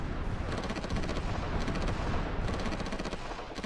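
Naval bombardment in the grand-strategy game Supreme Ruler Ultimate, a dense, steady barrage of distant booms and rattling shell impacts rolling on without pause at an even loudness.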